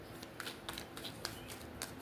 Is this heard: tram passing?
no